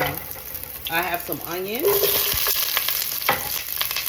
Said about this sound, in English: I'm going to go ahead and put my chicken in there right now.